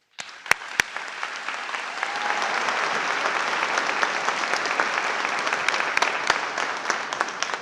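Commencement audience at a community college graduation ceremony bursts into sustained applause for the valedictorian, a dense, steady wash of many hands clapping that swells after a few sharp early claps and holds loudly to the end.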